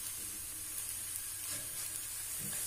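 Paneer paratha cooking in oil on a hot griddle, giving a faint, even, continuous sizzle and hiss with no talking.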